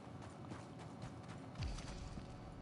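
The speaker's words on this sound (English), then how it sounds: "Alright, so that's my horse." Faint hooves clip-clop from a horse in Red Dead Redemption 2, a soft uneven rhythm of steps under low game ambience.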